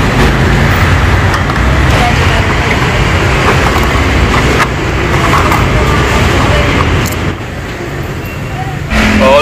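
Road traffic heard from inside a car in a jam while driving for Grab: a continuous low engine and road rumble with passing vehicle noise, steady throughout.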